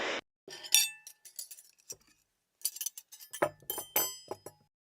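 Glassware and cutlery clink at breakfast in a series of sharp, bright taps and rattles, scattered irregularly with short pauses and close by, with no talking.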